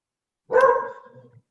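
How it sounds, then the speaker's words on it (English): A single short dog bark sounds nearby, sharp and loud, then trails off into quiet. "if you hear my dog barking in the background"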